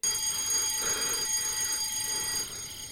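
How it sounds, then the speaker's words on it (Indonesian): A steady electronic alarm rings continuously with high piercing tones, loud and close, with no voices, easing off slightly near the end. "Ketika itu lampu alarm berbunyi"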